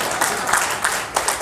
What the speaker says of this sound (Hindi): और ताली बजाओ